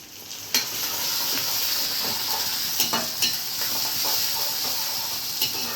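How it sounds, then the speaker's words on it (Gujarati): Steady frying sizzle of garlic with a spoon scraping and tapping against a pan every second or so, close and fairly loud. "હવે લસણ નાખી થોડુંક ચમચાથી ફેરવી લો ને"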